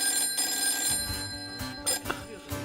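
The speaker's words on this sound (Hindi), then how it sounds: "फोन किसका बज रहा है?" A telephone rings in repeated bursts of a bright electronic tone, close and fairly loud, while faint voices talk in a courtroom setting.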